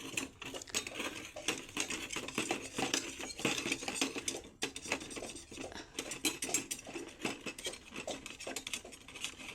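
Scourer scrubbing a brass oil lamp that was boiled to loosen grime, giving a steady, close rasping scrape with quick metallic clinks and rubbing strokes throughout, no voices.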